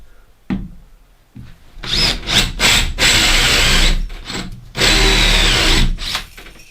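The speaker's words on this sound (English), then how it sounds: "just get a spade bit or an auger or whatever" A power drill with a spade bit bores a hole in wood while a Versailles-style planter is being built. Several loud grinding bursts of drilling run close up with short pauses between them, and nobody talks.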